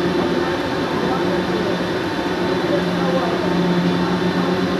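A Toyota RX300 ring frame spinning machine runs with a steady, dense mechanical drone and whir, continuous and close throughout with no pauses.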